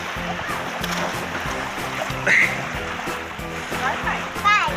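Water splashes as a child dives into a cold natural rock pool at Praia Santo Antônio beach in Mangaratiba, with a few sharp splashes over running water while voices talk throughout.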